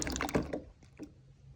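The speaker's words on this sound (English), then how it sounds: "open a jar of white beans. Drain." A jar of white beans being drained, with a brief wet slosh and pour of liquid up close, then tapering off into a few faint drips.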